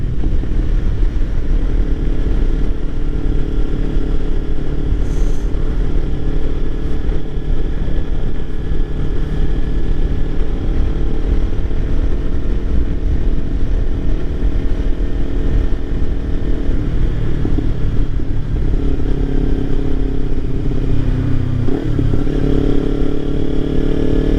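Kawasaki Ninja 300 motorcycle engine droning steadily and loud throughout a ride, with wind rush and shifts in engine pitch near the end.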